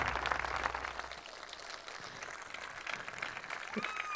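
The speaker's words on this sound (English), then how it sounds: "Let's give them all an appropriate applause" Audience applause for veterans at a political speech, a steady broadband wash of clapping from a large crowd that carries through the whole stretch at moderate level.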